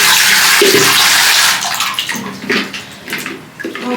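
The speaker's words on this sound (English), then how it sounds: "I'm gonna go ahead and fill this up with some warm water" Warm tap water gushes into a spray bottle, a steady hissing stream at first, then sputtering and gurgling in uneven bursts as the bottle fills, close and loud with no talk.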